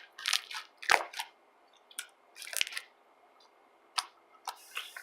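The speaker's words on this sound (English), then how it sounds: "I'm just gonna make a popping noise" Slime is squeezed and stretched by hand to make a few sharp popping and crackling snaps, quiet and close, with gaps of near silence between bursts and no talking.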